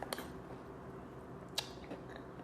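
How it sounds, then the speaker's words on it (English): Someone eats cereal in quick bites, with a few crisp crunches standing out against a low steady background hum. "Trying to eat this cereal real quick."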